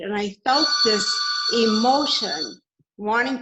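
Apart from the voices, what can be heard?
telephone ringing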